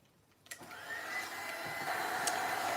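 A drying tool starts up with a click and whirs into a steady, rising airy blow as it dries gesso on a plastic animal, continuing alone without speech.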